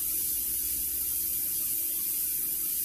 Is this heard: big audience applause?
no